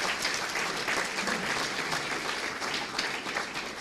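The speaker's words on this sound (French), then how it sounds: "Donc je vous invite à l'applaudir et à la saluer." A conference audience claps steadily throughout, dense sustained applause heard from within the room.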